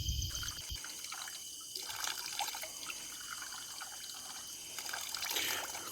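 Water flowing steadily from a natural drinking spring in a Kumaon forest, a continuous close trickle and splash with faint dripping, alone without voices.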